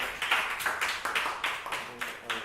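A small audience claps steadily and rhythmically at a school gathering where high school students met the head of a North Korean defector association. The claps are close and evenly spaced, with no speech over them.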